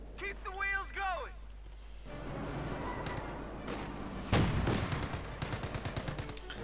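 Machine gun fire from an MG34 in the Company of Heroes 2 strategy game, rapid bursts and heavy thuds amid battlefield noise, with a commentator's voice early on.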